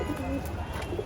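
Domestic pigeons in a loft setup coo in soft, low, repeated murmurs close by, with some chirps and background voices mixed in.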